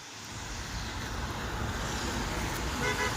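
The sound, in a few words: road traffic, vehicles passing on a busy road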